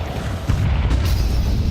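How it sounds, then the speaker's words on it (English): A single heavy grenade blast in Counter-Strike during a tournament match, a loud low boom that swells and rumbles on for over a second without speech. "It's a big nade."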